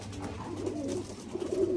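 Pigeons in a loft give soft, low cooing calls, a few rolling coos close by over a muffled background murmur.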